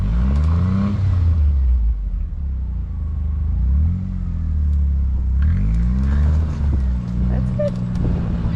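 A car revs hard in deep snow, its engine rising and falling in long strained surges as the wheels spin, with short pauses between bursts; a voice briefly speaks over it.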